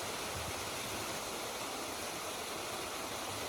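A waterfall in a mountain valley at Gombaeryeong on Jeombongsan roars as a steady, dense rush of falling water, constant and unbroken from start to finish.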